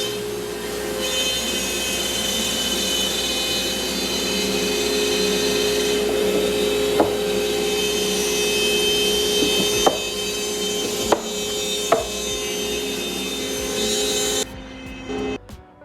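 A CNC router carves a wooden coaster from scrap stock: a steady loud whine of the spindle and cutting runs continuously, with a few sharp knocks along the way, then stops and gives way to quieter handling sounds.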